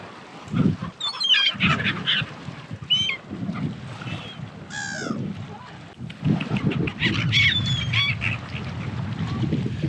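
Seagulls being fed at Pangong Lake give shrill, squealing cries in scattered bursts, mixed with nearby voices and handling noise.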